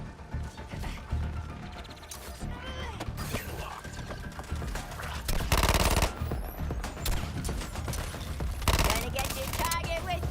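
Rapid support gunfire from an allied squad in the Suicide Squad: Kill the Justice League video game, dense mechanical rattling bursts under a busy game soundscape, with loud volleys peaking around six and nine seconds.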